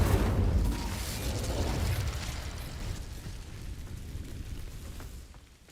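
A fire spell ignites dry vines in Hogwarts Legacy, giving a fairly quiet burst with a rumbling whoosh at the start that thins into a low crackling burn and fades out.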